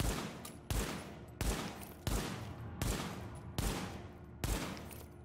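Gunfire in The Division video game, with about seven evenly spaced, loud, punchy shots, each followed by a broad roaring decay, steady rhythm and no voices.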